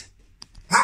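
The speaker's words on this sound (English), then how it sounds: "And they're noisy dogs!" Noisy dogs bark in a house living room, one short loud burst near the end after a faint quieter stretch, close by.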